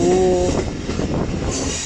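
Passenger express train on the Multan to Rawalpindi line rolling over a rail switch, with steady rumble, rhythmic wheel clatter and a brief metallic squeal, loud and close from inside the carriage.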